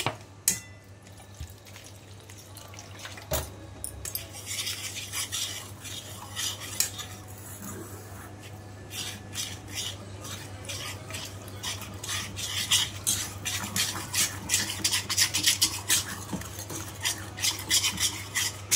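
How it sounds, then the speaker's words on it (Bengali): Ash gourd fritter batter with water and a little sugar being stirred with a spoon in a bowl: continuous wet, sloshing stirring with light metallic taps, close, picking up speed and intensity toward the end. "আমি সব কিছু দিয়ে ব্যাটারটা ভালো করে বানিয়ে নিচ্ছি।"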